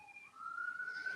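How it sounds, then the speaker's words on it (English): An emergency siren wails at a distance, its tone gliding upward and then holding a steady high pitch over a low background hum, with no talking. "Sirens blaring."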